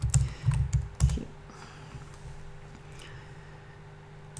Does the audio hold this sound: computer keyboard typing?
yes